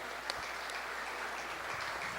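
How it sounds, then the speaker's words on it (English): Audience at a 2018 State of the City address applauding briefly, a soft, fairly distant patter of clapping with a couple of sharper claps near the start. "that deserves an applause."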